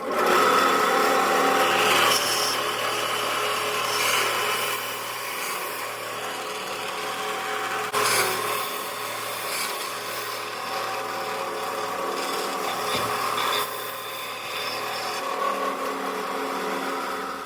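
A power saw cuts through a wooden pen blank in a home workshop, a steady loud whine running throughout with slight shifts in pitch as the blade bites, and no talking.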